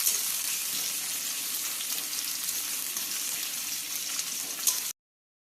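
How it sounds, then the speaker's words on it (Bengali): Chopped onions sizzle steadily in hot oil in a pan while being stirred, with a loud, continuous frying hiss and a few scraping movements, cutting off abruptly near the end; no talking. "পেঁয়াজ হালকা নেড়ে চেড়ে নেওয়া হচ্ছে।"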